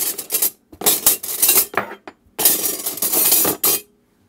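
Dishes, cutlery and glass clatter loudly in a home kitchen while a spoon is sought beside a bowl of drained macaroni and a baking dish, in two busy bursts split by a short pause, no voices.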